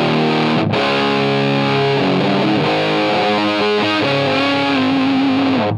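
Heavily overdriven electric guitar played through an overdrive pedal with gain cranked, thick and saturated, with sustained distorted chords and a brief cutoff before ringing on, loud and close.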